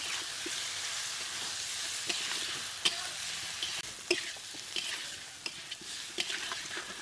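Mushrooms and potatoes being stir-fried in masala, with a steady background sizzle and scattered spoon scrapes and clicks against the pan.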